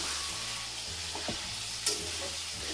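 Vegetables with onion, ginger and garlic fry in a pan, a soft continuous sizzle with faint crackles and a couple of brief stirring scrapes, close and quiet with no talk.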